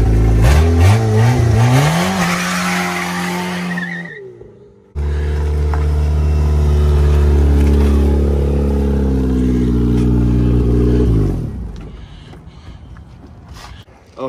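A car's engine revs hard for a burnout, climbing in pitch, cutting out briefly, then roaring loudly in a sustained high-rev hold before dropping away, with no talk over it.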